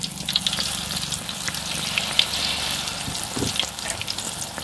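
Battered banana fritters frying in hot oil, a continuous close crackling sizzle with small pops throughout.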